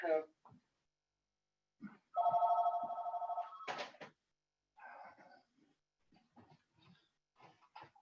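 Telephone ringing during a video call, a steady electronic ring tone lasting a couple of seconds in the middle, surrounded by intermittent speech.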